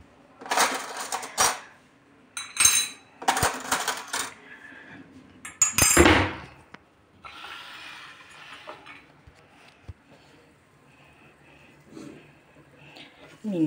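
Small tea glasses and a little teapot clink and rattle in bursts of close, bright glassy knocks, with quieter handling noises between them and a voice speaking at times.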